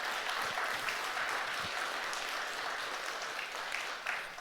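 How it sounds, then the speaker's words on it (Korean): A church congregation at a children's event applauds, a sustained, even wash of clapping from many hands heard at a moderate distance, fading slightly toward the end. "우리 박수 한번 보내줄까?"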